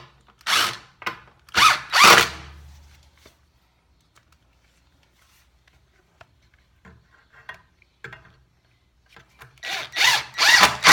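Power drill boring screw holes for an electrical outlet box, with short close bursts at the start and again at the end separated by near silence and faint ticks.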